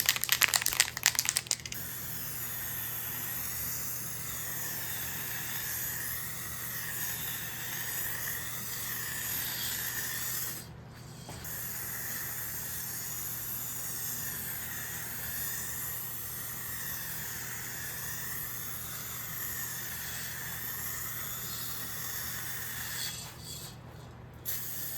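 An aerosol spray can lays a second coat of paint on a guitar body in long continuous hissing bursts, close and steady, with brief pauses between passes.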